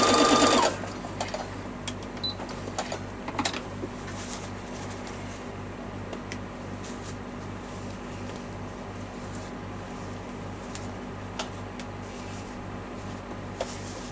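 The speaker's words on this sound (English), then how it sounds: "So when I get level on the fabric, the little button pops out, and then I can sew as normal." A sewing machine runs steadily, stitching fabric with a continuous rhythmic hum and clatter after a brief louder start, close by and with no talk.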